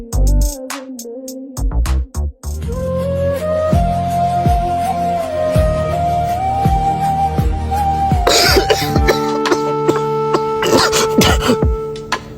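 A man coughs in a few harsh, rough bursts near the end, close to the listener, over steady background music with sustained tones.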